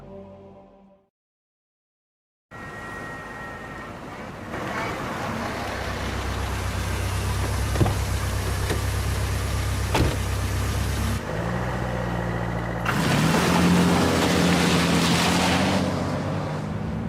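A car driving in a cut-scene from the 2003 video game Tomb Raider: Angel of Darkness, with a steady low engine hum and road rumble after a brief silence, building slightly louder toward the end.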